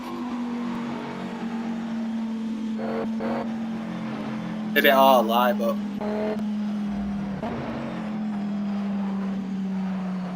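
A car engine in a racing video game holds a steady, even hum at near-constant revs, with a person talking over it.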